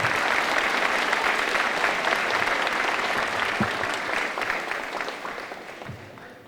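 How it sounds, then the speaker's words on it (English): An audience applauds at an eighth-grade promotion ceremony: dense, sustained clapping that holds steady, then gradually fades away. "You can clap for that."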